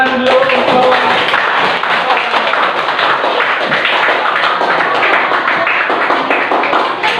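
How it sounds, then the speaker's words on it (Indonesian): A classroom of students gives a group presentation a continuous round of hand clapping, dense and even for about seven seconds, with no talk over it. "Oke, tepuk tangan dulu untuk"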